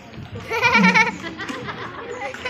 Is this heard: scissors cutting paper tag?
no